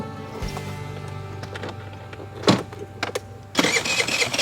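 A Jinlun JL50QT-5 50cc Chinese scooter engine cranks and catches, starting up with a sputter and settling into a steady idle, close by.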